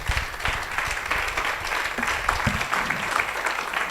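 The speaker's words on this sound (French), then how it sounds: "merci pour vos applaudissements" An audience at an AI research conference applauds throughout, a dense and even patter of many hands at moderate loudness, with a few lower thumps and murmurs mixed in.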